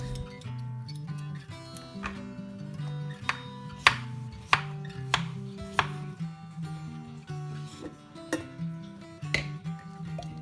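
A medium cucumber, already peeled, is chopped with a knife on a board, giving a series of sharp, fairly regular taps over steady background music.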